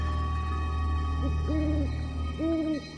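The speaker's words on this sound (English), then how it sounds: "especially the owl, the Iroquois omen of death." An owl hoots twice in a forest, each call a short pair of hollow tones, over a steady low hum of background ambience.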